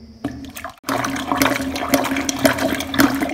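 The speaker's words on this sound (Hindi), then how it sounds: "इस ड्रेन पंप के माध्यम से आप पानी नीचे पुश कर दें" Dirty toilet bowl water pushed down with a drain pump plunger: after a brief pause, a loud, close rush of gurgling, swirling water surges and sloshes continuously for several seconds.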